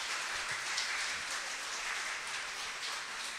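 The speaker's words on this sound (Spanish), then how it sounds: "Un aplauso para ellos, por favor." A congregation applauds a long-married couple at a church anniversary service, with steady, soft clapping from many hands that sounds distant and fairly faint throughout.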